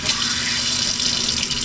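Water running from the taps into a small sink in a Rialta RV, a steady, close splashing stream that stays constant throughout, with no talking.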